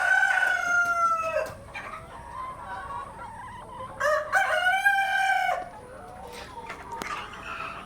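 Multicolored tiger-breed chickens cluck nearby while a rooster crows loudly twice, with quieter fowl sounds between the crows.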